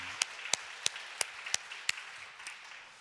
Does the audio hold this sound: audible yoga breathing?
no